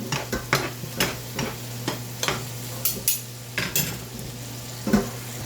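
Sliced mushrooms seasoned with pepper and salt are stirred in a pan, giving a steady series of soft scraping, clinking strokes over a faint sizzle and a low steady hum.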